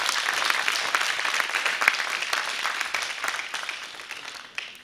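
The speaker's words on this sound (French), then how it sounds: "Et vous méritez de grands applaudissements." A crowd claps steadily in sustained, fairly loud applause that tapers off slightly toward the end, at a youth human rights debate final.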